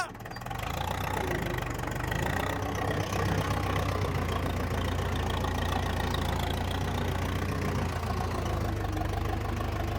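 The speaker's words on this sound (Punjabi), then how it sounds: "ਵੇਖੋ ਕਿਵੇਂ ਮਣੀ ਨੇ ਟਰੈਕਟਰ ਰੋਕਿਆ" A tractor engine idles steadily with a deep, even rumble and a faint knocking pulse, close by and continuous throughout.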